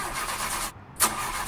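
A car engine cranks repeatedly without catching, a steady grinding churn that cuts out briefly and then resumes with a sharp burst, close and loud.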